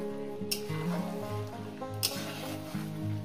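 Chicken cooked with yogurt sizzles gently in a pan over medium heat while a spoon stirs it, scraping and squishing in short strokes, with a few sharper clicks from the utensil against the pan.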